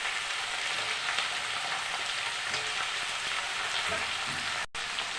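Eggplant and mixed vegetables frying in oil with a little salt and turmeric: a dense, even crackling sizzle, close and constant, with a brief dropout near the end.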